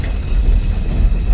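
A train pulls into a snowy elevated platform in New York, with a loud, close, continuous low rumble and rolling noise and no voices.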